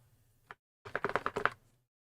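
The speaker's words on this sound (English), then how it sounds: "it's just me messing with my mouse mat." Quick rubbing and scratching on a computer mouse mat, a single short scrape followed by a rapid cluster of brushy strokes, close and fairly quiet with no talking.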